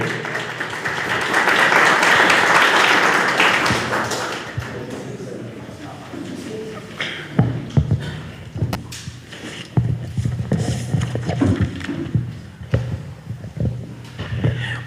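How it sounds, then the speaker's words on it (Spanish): Loud crowd applause at a synodal gathering of the Huancané prelature in honor of the bishop, a dense burst of clapping for about four seconds, then fading into scattered taps, thumps and room noise. "Fuertes aplausos para él."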